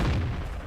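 Main gun of a KV-5 heavy tank firing in a tank battle video game, one heavy booming shot with a rumbling tail that fades over under a second, loud and close, no talking.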